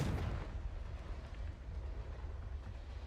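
A fire spell's explosion in the video game Hogwarts Legacy sets off a deep, rumbling blast that fades into a sustained low roar, loud and heavy in the low end, with no voices.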